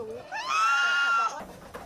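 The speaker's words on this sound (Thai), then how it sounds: "แม้เลี้ยงแพะคอกนี้มานานกว่าหนึ่งปี" Goat bleating from a pen on a farm in Kanchanaburi, Thailand: a single close, loud, wavering bleat lasting about a second, followed by faint rustling.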